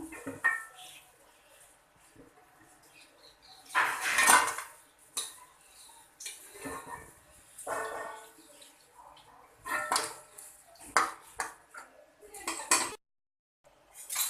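Crispy fried taro (arbi) is scooped out of a pan with a metal utensil, giving close, crunchy rattles and clinks in bursts with quieter gaps between them.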